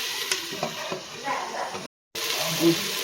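Onions and tomatoes sauté in a pan being covered, giving a low, moderate sizzle with light clatter, under a voice talking, and broken by a brief silent gap.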